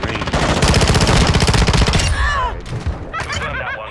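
Gunfire in Call of Duty, a loud rapid automatic burst of shots for about two seconds, followed by scattered whizzing and impact sounds.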